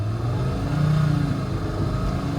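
A 2006 VW New Beetle 2.5L engine with a lean fault code is accelerating at full throttle, giving a steady loud low rumble that builds slightly, heard alone.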